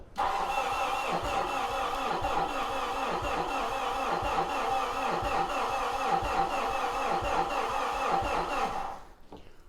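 A Mitsubishi Fuso truck diesel cranks continuously for about nine seconds, the starter churning in a fast even rhythm, close and steady, without catching before it stops.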